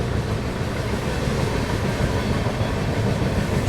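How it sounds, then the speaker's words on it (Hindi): Inside a 3AC coach of the Kashi Vishwanath Express on the Delhi to Lucknow run, a loud, dense rumble of wheels and carriage noise fills the space continuously as the train gathers speed. "शानदार एक्सीलरेशन इस समय हमारी ट्रेन लेती हुई।"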